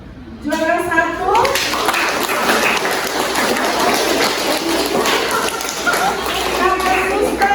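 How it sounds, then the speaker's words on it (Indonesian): A classroom bursts into dense, sustained clapping for the first-place winner, loud and close, with children's voices and chatter mixed in throughout. "Kita tepuk tangan untuk Dwi, juara 1."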